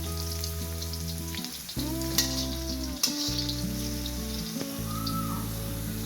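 Chopped garlic frying in a pan for Nepali-Chinese chicken fried rice, a steady close sizzle with a few sharper crackles and pops, heard over a constant tonal background.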